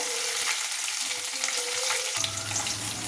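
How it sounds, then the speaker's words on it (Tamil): Cashews, black pepper, cumin, coriander and curry leaves sauté in hot oil and ghee for pongal, a loud, continuous close-up sizzle with stirring that shifts in tone partway through. "எண்ணெயும் நெய்யும் சேர்த்து முந்திரி போட்டுருங்க. மிளகு சீரகம் ஆட் பண்ணிவிடு. கொத்தமல்லி கருவேப்பிலை எல்லாத்தையும் போட்டு நல்லா வதக்கி விட்டுருங்க"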